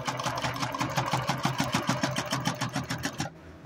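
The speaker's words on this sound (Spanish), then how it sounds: "Aquí estamos cosiendo drill." A late-1990s Singer 9836C sewing machine running a straight stitch through drill fabric, a rapid rhythmic needle chatter of evenly spaced beats, close and loud, stopping abruptly near the end.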